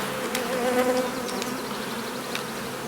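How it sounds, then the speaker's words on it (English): Honey bees buzz in a dense, continuous drone as they are shaken off a brood frame holding drone brood, with a few sharp knocks over the humming swarm. "we'll shake the bees off and then we can show you some drone brood as well"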